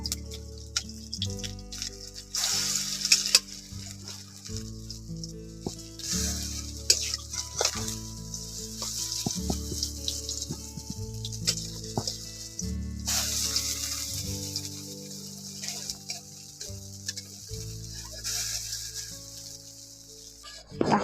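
Khesari lentil paste fries and is turned over in a pan, with soft intermittent sizzling and occasional scrapes under louder background music.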